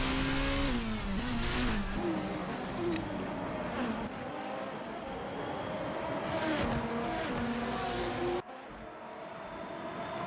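Race car engines scream through a Formula Hololive round at Fuji, a loud sustained howl that rises and dips with gear changes and passing cars, staying steady throughout with a brief cut near the end.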